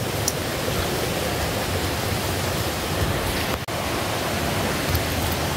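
A waterfall on the Silveira river, in Tupi-Guarani indigenous land, pours with a steady, dense roar that stays unbroken and close.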